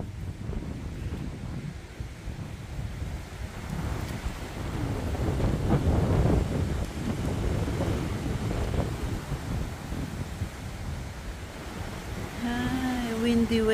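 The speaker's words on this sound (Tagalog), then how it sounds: "Normal na sa kanila yung ganitong hangin." Strong wind buffets the microphone outdoors in Wellington, a steady loud roar with gusts swelling around the middle, while a voice briefly speaks near the end.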